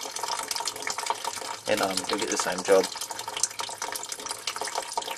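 Water from a garden hose flushes through the radiator of a Toyota Tarago (Previa, Estima) while the motor runs. It makes a steady, continuous splashing rush, with someone talking over it.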